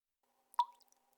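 A leaky faucet lets fall a single water drop, a sharp close plop with a short ringing tail amid near silence.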